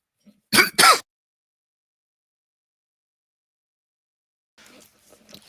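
A sharp double cough or throat-clearing, a perpetual cough, bursts out close and loud, then silence follows with faint murmuring near the end.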